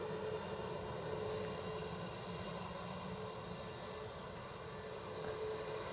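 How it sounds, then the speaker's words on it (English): An Embraer 190 jet airliner at Edinburgh Airport gives a steady, distant engine roar with a faint whine, unbroken and fairly quiet throughout. "this Embraer 190, I'm pretty certain is off to Palma de Mallorca"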